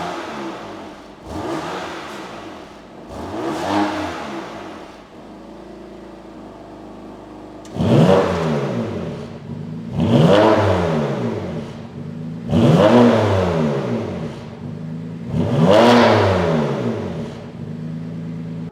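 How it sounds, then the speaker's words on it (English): A 2016 BMW M4 F82 fitted with a Remus axle-back race exhaust and chrome tailpipes revs repeatedly, about six loud, close blips that rise and fall, with a lumpy idle burbling between them and no talking. "the axle back Remus race exhaust with the chrome tailpipe to keep that non-comp theme"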